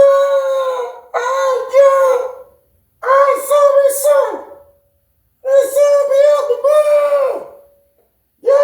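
A man vocally imitates someone yelling from a window, drawn-out wailing calls rising and falling in three long bursts with short pauses between, loud and close with no other sound.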